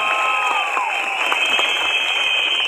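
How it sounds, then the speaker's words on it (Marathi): Loud crowd applause at a political rally, steady dense clapping and cheering that fills the whole stretch, with a sustained high tone and a few gliding sounds on top. "एकदा जोरदार टाळ्या चिमुकल्यांसाठी झाल्या पाहिजेत."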